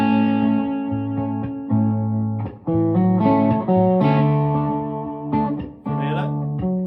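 An electric guitar run through effects plays sustained, melodic solo lines over chord tones, loud and close, with smooth held notes and a few brief breaks between phrases.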